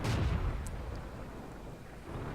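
A tank gun fires in the video game World of Tanks: a single heavy boom at the start that decays into a low rumbling tail.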